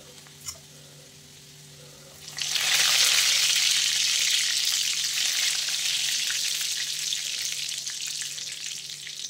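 Cumin and mustard seeds hit hot oil with garlic, bursting into a loud, steady sizzle that starts abruptly after a faint click and keeps crackling close by, easing slightly toward the end.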